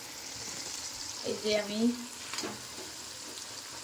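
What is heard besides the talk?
capsicum and green peas frying in a pan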